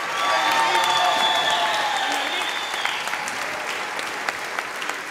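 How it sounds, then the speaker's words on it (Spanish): A theater crowd at a live unplugged concert applauds and cheers for a band member; dense clapping with whistles and shouts rising over it, strong for about three seconds then thinning to scattered claps. "Fuerte aplauso."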